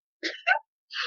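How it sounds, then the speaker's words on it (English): Two quick, close sneezes from one person in rapid succession, followed after a short pause by a third burst, all sharp, breathy and loud in an otherwise quiet room. "I got mini sneezes going"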